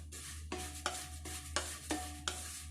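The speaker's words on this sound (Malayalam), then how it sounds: "കടായി ചൂടായിട്ടുണ്ട്. എണ്ണ ഒഴിച്ചിട്ടില്ല. 2 കപ്പ് അവില് വറുത്തെടുക്കുകയാണ്." Flattened rice (poha), two cups, dry-roasted and stirred in a hot kadai with no oil: a steady dry rustling hiss punctuated by six regular scraping strokes of the spatula against the pan, close and moderately quiet.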